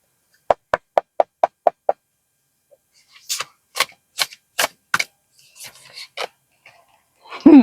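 Knocking at a door: seven quick, evenly spaced sharp raps, then after a pause a heavier, louder and more irregular series of thuds, close by with no voices.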